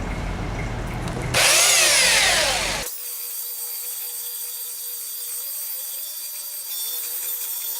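A harsh, loud grinding of a belt sander working a pine cutting board, abrupt and rising briefly, then cutting out to a quieter steady motor whine.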